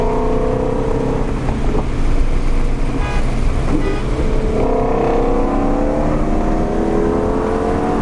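Shelby GT350 engine droning loud and near from inside the cabin, a continuous throaty rumble with rising pitch sweeps toward the end and no talk over it.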